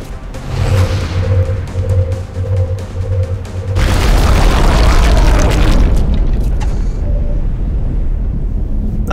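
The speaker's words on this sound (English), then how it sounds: "I could just stick a massive rocket down there." A rocket explosion in the turn-based strategy game X-Com: Enemy Unknown: after a low, steady musical drone, a single heavy boom erupts midway and rumbles on, loud and close, fading slowly over several seconds.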